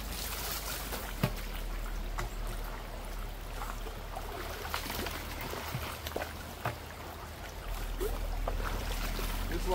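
A yabby pump sucks water and gravel from a hole while prospecting for glacial gold, making a faint, continuous gurgling trickle with small scattered knocks and splashes.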